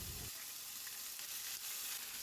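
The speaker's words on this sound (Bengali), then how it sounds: "ওই একই তেলে লঙ্কা ফোড়ন দিয়ে আদা বাটা দিয়ে একটু ভেজে নেব" Dried red chili and ginger paste frying in hot oil for a vegetarian gobi manchurian, a soft steady hiss of sizzling throughout a short stretch, fairly faint, with no talking.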